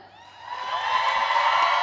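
A conference audience at a general session swells into rising cheering and whooping for a team, building from moderate to loud and holding steady, with a crowd roar dense throughout.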